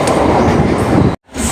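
A toy train ride at Nandankanan zoo rumbles loud and close with dense low clatter, then cuts off abruptly near the end before the noise resumes.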